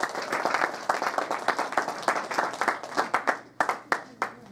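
An audience at a Christian testimony gathering claps for a speaker, a dense burst of applause that thins into fewer, distinct, rhythmic claps toward the end.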